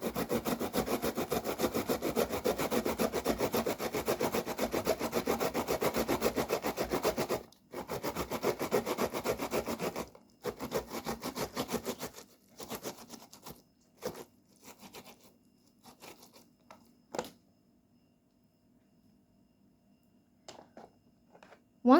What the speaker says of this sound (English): we need to grate the tomato and shred it like so